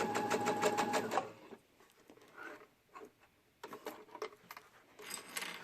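A sewing machine stitches a dress in rapid mechanical bursts, a fast run at the start, then a pause with light handling sounds, then shorter stitching spurts, fairly close and quiet.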